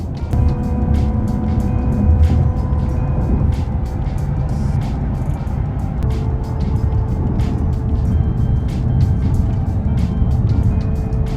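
Steady cabin noise of a Hyundai Ioniq 5 N electric car cruising on a highway through rural Missouri: constant road and tire roar with a faint whine, loud and unbroken, no talking.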